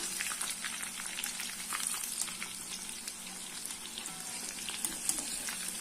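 Battered mushroom pakoda deep-fry in hot oil with a soft, continuous bubbling sizzle and scattered small pops, heard fairly quietly and alone.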